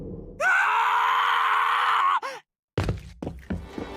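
A character screams in the Tsukihime Remake visual novel: one long, loud, sustained shriek, like a broken siren, that cuts off abruptly and is followed by heavy, ragged gasping and sobbing breaths.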